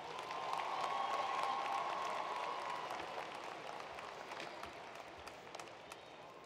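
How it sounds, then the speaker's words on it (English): Commencement audience applauding honors graduates, a broad wash of many hands clapping that swells and then slowly fades, heard at a distance in a large venue with a faint voice briefly over it. "let's give all of our honors graduate a well-deserved round of applause."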